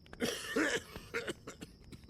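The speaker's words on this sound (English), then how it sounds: "before this man stops coughing" Man coughing in the video game Dead Synchronicity: a handful of rough, throaty hacks in uneven bursts, close and loud, with no talk over them.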